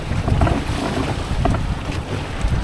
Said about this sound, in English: the wind's picked up now, as forecast